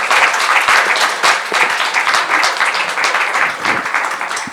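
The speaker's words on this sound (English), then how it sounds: "so let's give a round of applause." Audience at a women entrepreneurs business forum applauding the speakers after a panel, a dense, steady wash of clapping that holds at full strength for several seconds with slight swells.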